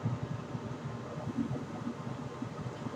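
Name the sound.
vacuum running for lab vacuum filtration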